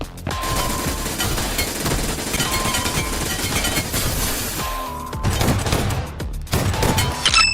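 Rapid gunfire from a twin-barrelled weapon in the Metro Royale game, firing like two guns at once, sounds as a dense, continuous volley with brief breaks near the end, loud and close.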